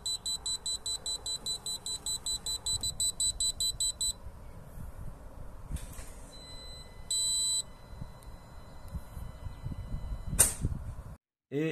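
A SwitchBot keypad's anti-theft alarm sounds as it is pulled from a door mount, rapid repeated high-pitched electronic beeps in bursts, then later shorter beep patterns with handling knocks and clatter.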